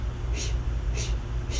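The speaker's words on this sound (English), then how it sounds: "It's going to be in and out by the mouth." Breath is blown out through the mouth in a yoga session, three soft airy exhales at a steady pace, close and faint over a low background rumble.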